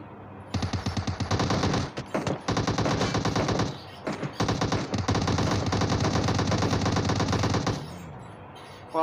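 Sustained, loud automatic gunfire rattles almost without pause in a PUBG squad match, with only short breaks between long bursts of rapid shots.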